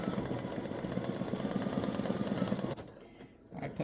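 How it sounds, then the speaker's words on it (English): An embroidery sewing machine stitches a ball design in blue thread, giving a fast, even mechanical whir and clack for most of the clip before it stops abruptly, leaving near quiet and a faint bump. "I put my blue thread in and I'm stitching this ball right here."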